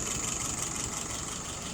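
Engine idling at about 650 rpm, a low steady rumble heard faintly and alone over a short stretch.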